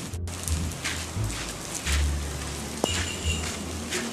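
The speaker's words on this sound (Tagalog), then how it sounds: "Hindi ako makalabas kasi umuulan." Rain falls steadily outside a truck shelter at a warehouse, a constant hiss of drops with occasional louder patters and a sharp tap, close and alone with no talking.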